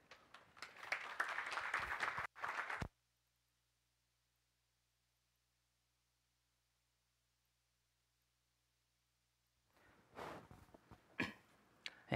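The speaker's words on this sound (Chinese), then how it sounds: "那我们就掌声欢迎今天的讲者 Malo。" An audience at a PyCon Taiwan 2018 talk applauds to welcome the speaker. A dense, steady burst of clapping lasts under three seconds, then cuts to near silence before rustling and handling noise returns.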